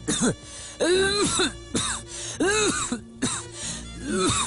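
Repeated harsh, raspy coughs come in bursts of two or three, close and fairly loud, with brief pauses between fits.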